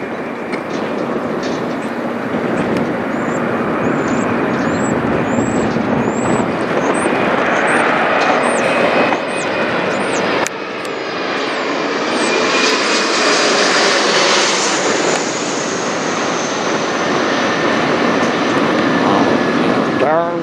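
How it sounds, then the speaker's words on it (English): An Air Canada Express Mitsubishi CRJ900LR regional jet flies over near Toronto airport, its engines a loud, steady roar with a rising whine throughout, heard with no talk. "It's a Mitsubishi CRJ900LR from Raleigh, Durham."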